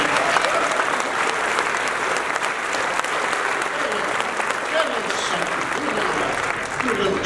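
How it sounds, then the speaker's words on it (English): An audience gives a big round of applause for a performer introduced as Daddy, a loud, dense, continuous clapping that holds steady from start to finish. "please give Daddy a big round of applause"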